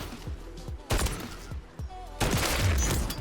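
Gunfire in Call of Duty MW3 Warzone rings out as a rapid series of sharp close shots, with a couple of separate bursts and a dense volley at the end.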